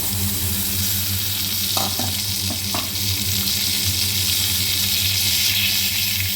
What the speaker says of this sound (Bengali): এবার পেঁয়াজগুলোকে লাল লাল করে ভেজে নেব